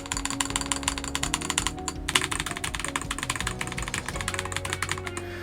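Rapid, steady clacking of keys typed on an Akko 5075 mechanical keyboard, with a slightly hollow, plasticky ring from the keycaps, continuous and fairly close.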